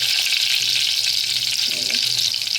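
Fresh coriander spluttering in hot tempering oil for a mushroom masala, a steady loud sizzle and hiss throughout with a brief stir-like scrape near the middle, no voices.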